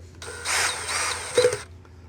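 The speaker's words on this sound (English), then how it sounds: "Pick the right drill." A handheld power drill spins briefly in a workshop during a K-9 dryer repair, a short whirring burst near the mic with a small clunk near the end, quiet before and after.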